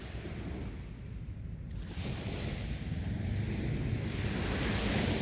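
Waves wash steadily onto a beach beside Fort Carré in Antibes, a continuous broadband surf roar with some wind, growing gradually louder toward the end, with no voices.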